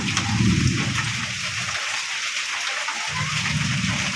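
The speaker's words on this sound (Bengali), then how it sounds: "বৃষ্টি এলো ছম ছম ছম" Steady rain pours during an outdoor bath at a grandparents' village home, a continuous broadband hiss with heavier low splashing that drops away briefly mid-way, then returns.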